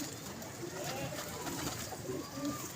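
A prized pigeon coos softly in a couple of faint, low calls against steady background noise, with someone speaking nearby.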